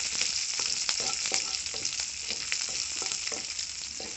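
Tempering spices sizzle steadily in hot oil for moringa leaf chutney, with a dense continuous crackle and faint periodic scrapes of stirring, close and alone without talk.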